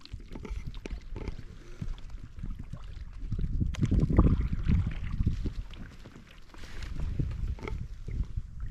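A coracle, a round basket boat, paddled on water amid dense vegetation: soft rhythmic paddle dips and sloshing with low knocks against the hull, fairly close and quiet, swelling midway, with no voices.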